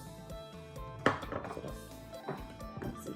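A pestle pounds chili paste (nam prik) with lime in a mortar, making irregular, fairly close knocks and thuds in short bursts over faint steady background tones.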